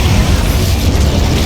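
The Incendio fire spell in Hogwarts Legacy sounds as a loud, dense, low rumbling blast that holds steady across the moment with no pause.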